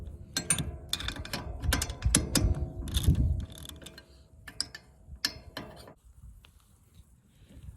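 Metal wrench and ratchet work on the bolts of a Case IH 310 Magnum tractor's slip clutch: a run of close, sharp clicks and clanks, some dense bursts, then sparser taps fading toward quiet near the end.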